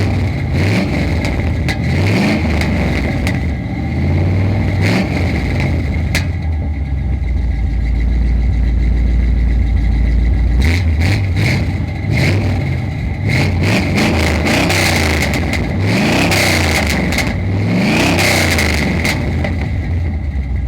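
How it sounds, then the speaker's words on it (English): A Volkswagen Jetta with new exhaust headers idles with a deep rumble, then revs repeatedly in sharp bursts, the exhaust note rising and falling close by with no talking. "Let's give you a quick exhaust note with the new headers."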